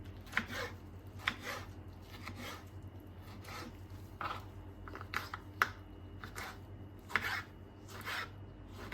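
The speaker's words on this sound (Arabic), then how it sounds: "نقوم شنو نقطع الطماطم بتاعنا برضو شرايح صغار كده" A knife cuts tomatoes into small slices for a Sudanese lentil fatta salad, giving quiet, irregular taps and short scraping strokes against a board, spaced a second or so apart with no talking.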